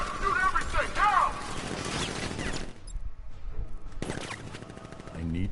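Guards open up with automatic gunfire in Batman Arkham Knight, a loud rattling burst over the first few seconds, then a brief lull and more shots, with voices shouting over it.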